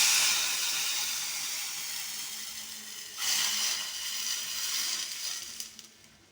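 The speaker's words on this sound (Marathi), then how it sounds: "वाव, मस्त फोडणी बसली." A mixture poured into a hot, sizzling tempering for kadhi, giving a sudden surge of loud hissing and crackling partway through that settles into steady sizzle, alone without talk.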